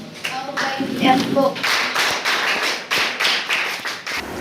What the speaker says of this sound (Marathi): आपण सर्वांनी टाळ्या वाजवून त्यांचं अभिनंदन करावं